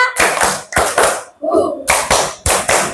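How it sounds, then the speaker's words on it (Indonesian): A teacher leads a classroom clapping game in a one-two-three pattern, with loud, close bursts of clapping in short rhythmic groups and a brief spoken word in a gap between them. "Tepuk 1, 2, 3."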